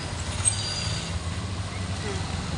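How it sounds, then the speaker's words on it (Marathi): Passing road vehicles make a low, continuous traffic rumble with occasional brake hiss, moderately distant and steady throughout, behind a walk along the roadside. "गाड्यांचा आवाज"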